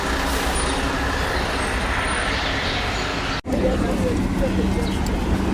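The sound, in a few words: large trucks passing on a narrow street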